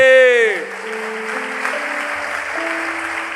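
A church congregation applauds during a Sunday service, a steady wash of clapping after a sung or shouted note fades, with a sustained keyboard tone underneath.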